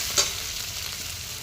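Grated ginger and garlic frying in hot oil give a steady, close sizzle with one brief louder spatter near the start, and no voices.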